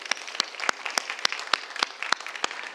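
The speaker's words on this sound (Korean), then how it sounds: "박수 우리 하나님께 영광 돌립시다." A church congregation claps through a worship service, sharp individual claps sounding in a quick uneven rhythm, close and loud, with no voices on top.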